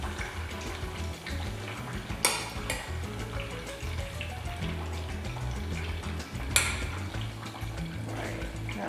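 Potatoes and onions frying in shallow oil for a Spanish omelette, a steady dense sizzle with a few sharp clicks of a utensil against the pan, heard alone without talk.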